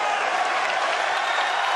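Pool crowd at the Mosconi Cup applauding loudly and steadily after a shot, a dense, continuous roar of clapping with no break.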